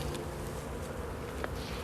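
A dense, continuous buzz of many honey bees from an opened hive at an apiary fills the air nearby, with a few individual bees droning past.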